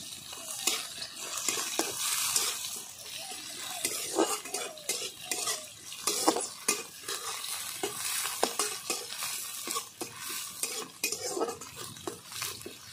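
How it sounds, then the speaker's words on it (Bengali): Chopped garlic and small onions frying in a large wok for a spinach dish, with a steady sizzle broken by frequent scraping and clanking of a metal spatula stirring against the pan, close and fairly loud throughout. "রসুন আর পেঁয়াজ লাল করে নিয়েছি"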